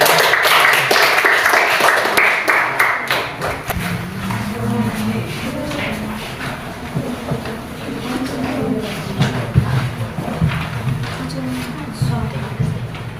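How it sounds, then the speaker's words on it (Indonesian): An audience claps together in a classroom-style gathering, a dense burst of applause that thins into scattered claps while voices talk and murmur throughout. "Ya, berikan aplaus kepada"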